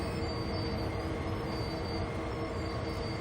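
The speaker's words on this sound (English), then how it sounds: "So I apply a little more brakes." Train brakes being applied as a train slows in Train Sim World 2, a steady loud rumble of rolling wheels with a faint high squeal over it, continuous throughout with no talking.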